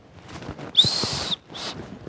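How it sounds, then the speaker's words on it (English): A shrill safety whistle blast rings out once, held for about half a second, followed by a shorter second toot, close and loud. "So you've got your handy dandy whistle."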